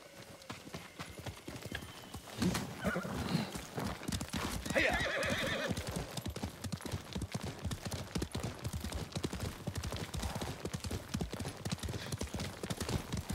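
A horse gallops in Ghost of Tsushima, its hooves drumming in a fast, close, rhythmic clatter that runs throughout, with a loud whinny breaking in partway through.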